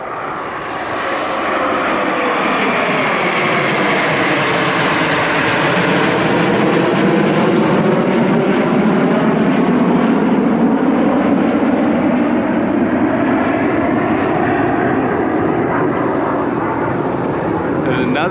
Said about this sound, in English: maybe I'll see another airplane maneuver over my head